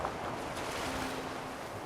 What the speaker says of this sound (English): Those water noises, man, freaking me out.